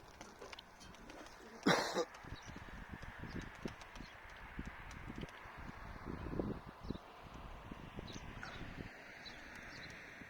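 Soft pigeon sounds flutter and call faintly outdoors near a pigeon loft, with one brief louder burst of wings near the start and light rustling throughout.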